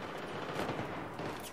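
Rapid, dense gunfire from the video game Battlefield 3 in close-quarters combat, a continuous loud burst of overlapping shots with no pause across the whole moment.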